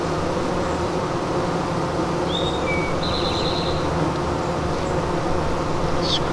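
Honeybees buzz in a steady, dense drone while beehive nucs are being split open, close and constant throughout, with a few brief higher chirps over the hum and no talking.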